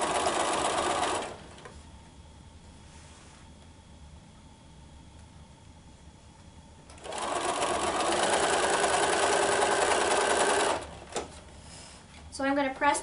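A sewing machine stitches quilt triangle units for a Christmas star block, in two sustained close whirring runs separated by a quieter pause, ending with a few short clicks.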